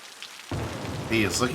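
Rain falls in the city-building video game Cities: Skylines, a steady soft hiss of drops that starts abruptly and continues evenly, with faint higher patter on top.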